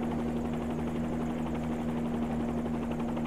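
Simulated helicopter in the X-Plane flight simulator, its rotor and engine drone steady and continuous with a constant tonal hum, loud and unbroken with no talking.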